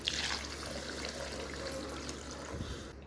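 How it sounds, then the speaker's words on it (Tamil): Rinse water from a blender jar poured into a pan of gravy, a steady close splashing trickle that runs evenly for a few seconds with no one talking. "நான் ஜார் கழுவி அந்த ஜார் கழுவின தண்ணியவே அதில் சேர்த்துக்கிறேன்"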